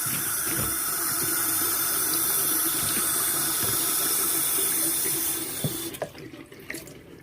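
A tap runs water through CPAP parts in a sink, a loud steady gush with small clunks, then stops near the end, leaving drips and handling noises.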